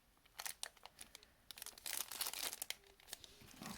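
A plastic bag around an Ampeg Liquifier analog chorus bass pedal crinkles and rustles in bursts of close, bright crackling during unboxing, loudest in the middle stretch, with no talk.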